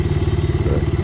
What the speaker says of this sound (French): Ici c'est livraison de pizza en motocross.